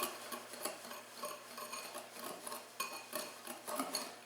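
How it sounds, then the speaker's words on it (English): Pumpkin pie spices are whisked in a bowl, giving quiet, quick metallic tapping and scraping strokes against the bowl in an irregular rhythm. "you want to whisk this just to blend really well"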